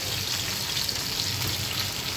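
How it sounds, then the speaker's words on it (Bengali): Chicken pieces frying in a pan on low heat for a Turkish-style spicy chicken fry, giving a steady, close hiss and crackle of sizzling oil throughout with no break. "দেখুন কত সুন্দরভাবে এটা ভাজা হয়ে যাচ্ছে"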